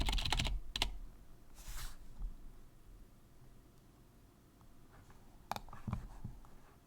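Quick bursts of keystrokes on a computer keyboard, with a dense flurry at the start, a few isolated taps, then another short run near the end over a quiet room.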